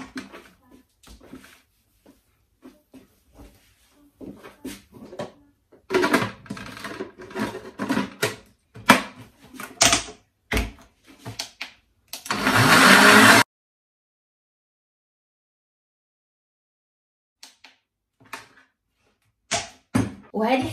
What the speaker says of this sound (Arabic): وغادي نطحن هادشي هذا.